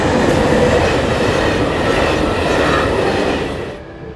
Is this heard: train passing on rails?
yes